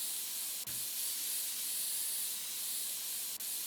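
A compressed air blaster sprays dust out of a dirty PC build in the video game PC Building Simulator: a loud, steady hiss lasting the whole stretch, broken only by two tiny gaps.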